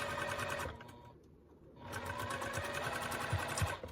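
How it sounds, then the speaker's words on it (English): A sewing machine stitches mesh fabric with a steady mechanical whir, slows briefly in the middle, then runs again at full speed, close and continuous. "I'm pretty much just letting my sewing machine pull these through."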